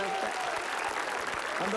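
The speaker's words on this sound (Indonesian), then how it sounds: "Tepuk tangan sekali lagi untuk" Studio audience applause on a Family 100 game show, a steady, loud crowd clapping throughout with a voice faintly audible underneath.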